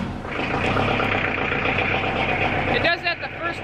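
A tractor engine with a failing starter cranks and catches, then settles into a rough, steady idle at close range, ending with a brief sputter.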